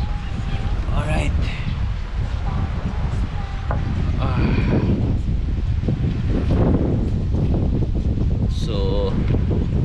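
Strong wind buffets the microphone on the open deck of a ferry boat, a steady roaring rumble with water and engine noise beneath, while a person talks intermittently over it.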